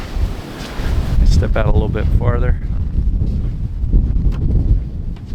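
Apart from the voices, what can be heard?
strong wind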